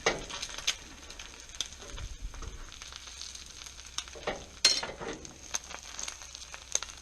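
Meat searing in oil in a cast iron pan, a low crackling sizzle with light pops and one sharper spatter, close and fairly quiet.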